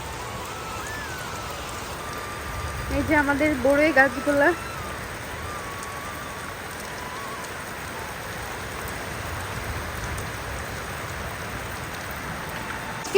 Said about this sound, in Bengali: আর জোরে বৃষ্টি নেমে গেছে